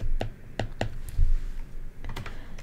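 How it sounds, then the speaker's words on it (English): Fingers press a calculator keypad to enter numbers during a high school geometry lesson: a few sharp, close plastic clicks in two short bursts with quiet gaps between them. "I'm going to type that in my calculator."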